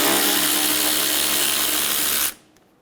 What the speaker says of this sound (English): Remove the 10mm bolt on the top of the headlight.